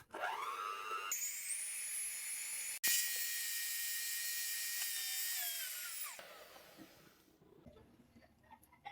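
Electric hand beater whipping egg whites with powdered sugar for a carrot semolina cake, a close, loud, steady high whine that briefly cuts out, restarts at a higher pitch, then winds down and stops.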